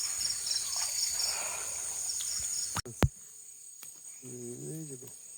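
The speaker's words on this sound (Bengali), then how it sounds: "তারপর আপনার ঝিঝি পোকার ডাক" Crickets chirping at night beside a forest stream near Srimangal: a shrill, continuous trill that cuts off abruptly partway through, leaving faint chirping, a sharp thump and a brief voice afterward.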